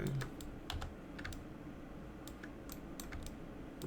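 Computer keyboard keys pressed during 3D modeling work, a scattering of crisp close clicks in irregular bursts over a quiet background hum.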